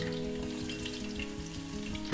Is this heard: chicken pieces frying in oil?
yes